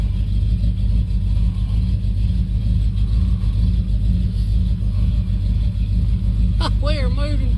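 Inside a moving 1971 Chevrolet El Camino with no working gas pedal, a low engine rumble drones steadily and loudly, and someone talks over it near the end.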